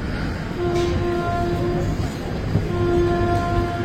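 The Haldibari Tri-Weekly Intercity Superfast Express pulls out of platform 4 at Malda Town station, a steady loud rolling rumble of carriages with sustained tonal hums from the moving train.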